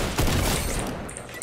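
A burst of far-off gunfire and explosive booms in a Fortnite match, a dense rumbling crackle that fills the short moment at moderate loudness with no voices over it.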